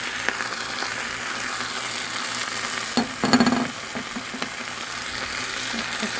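Marinated beef hitting a hot pot for Korean seaweed soup, a steady broadband sizzle throughout with a brief louder burst and a few clinks of stirring near the middle, close and alone with no talk.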